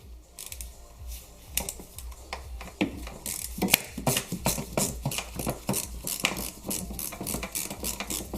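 Close, repeated ratchet clicks as a ratchet on an extension bar undoes 8mm bolts deep in a Ford Ranger engine bay while an induction kit is fitted, in quick uneven bursts with no talking.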